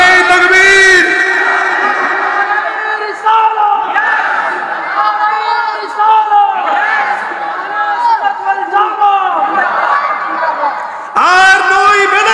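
A large crowd at a Sunni religious gathering chants in loud unison in response to a takbir call, voices swelling and dipping across the stretch and rising again in a fresh burst near the end.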